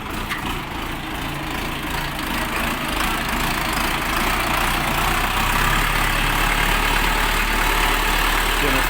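An Orion RD-404 mini tractor engine idles steadily and loudly throughout, a continuous low rumble that grows slightly heavier toward the end.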